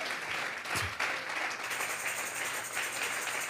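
A church congregation gives an offering of applause to God, sustained clapping that fills the room evenly throughout without any talking.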